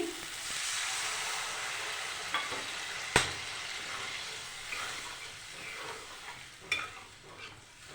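Water hisses and sizzles in a hot pan of spiced masala for a bhola fish curry, a steady bubbling broken by a few sharp clinks of a spoon against the pan.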